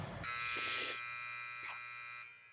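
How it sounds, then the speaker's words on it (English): A hockey arena buzzer sounds to end the warm-up period, a single loud sustained electronic tone lasting about two seconds before cutting off, with faint rink ambience around it. "As you can hear the buzzer to end the warm-up period"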